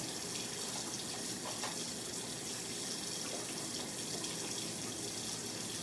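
A sink tap runs steadily while hands are washed, giving a faint, even rush of water with no break and no talking.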